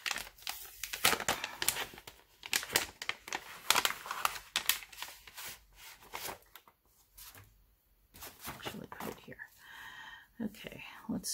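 Paper ephemera pieces are handled out of an envelope, with repeated crinkling and rustling bursts up close and a person talking quietly between the handling sounds.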